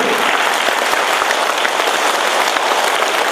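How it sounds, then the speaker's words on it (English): An audience gives loud, dense applause at a spiritual talk in Thiruvannamalai, a steady wash of many hands clapping that holds evenly throughout without a break. "You have big clap for Tamil language"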